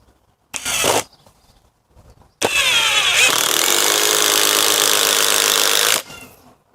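A copy of a Makita DTD171 impact driver drives an ordinary self-tapping screw: a brief loud burst, a pause, then about three and a half seconds of close, harsh, rapid hammering before it stops, with no talk.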